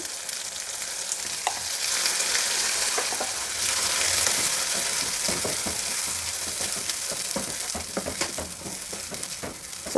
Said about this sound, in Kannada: ಈಗ ರುಬ್ಬಿಟ್ಕೊಂಡಿರೋ ಮಸಾಲೆನ ಈ ಒಗ್ಗರಣೆನಲ್ಲಿ ಸೇರಿಸ್ತಾ ಇದ್ದೀನಿ